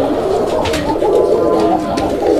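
Male Raj-golla pigeons coo steadily and at close range, their rolling throaty calls overlapping continuously with no speech.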